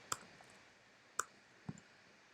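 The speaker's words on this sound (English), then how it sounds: "then start typing import" Keyboard keys clack a few times, sparse and separate, while code is typed for a React Native chat app; quiet and close with faint background hiss.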